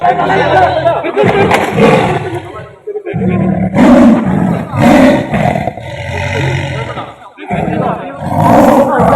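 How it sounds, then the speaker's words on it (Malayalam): A tiger caught in a trap cage in Wayanad, Kerala, after killing livestock, lets out loud, repeated deep roars and growls close by, with voices of onlookers chattering throughout. "വളർത്തുമൃഗങ്ങളെ കൊലപ്പെടുത്തി ജനങ്ങളെ ഭീതിയിലാഴ്ത്തിയ കടുവ കെണിയിൽ വീണു"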